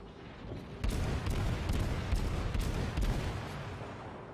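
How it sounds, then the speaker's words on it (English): Battleship guns fire in a World of Warships naval battle, a series of distant booming shots spaced about half a second apart over a steady low rumble, fairly quiet overall with no talking. "there goes some shots from that battleship"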